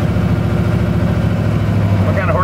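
Nelson Racing Engines Camaro making about 850 horsepower, idling steadily with a deep, even, loping rumble close by while someone talks over it.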